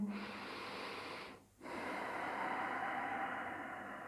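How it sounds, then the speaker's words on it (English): A person in a stretching yoga pose takes a long audible breath out through the nose, breaks off with a short pause, then draws a steady, airy breath in, close and fairly quiet. "So keep breathing."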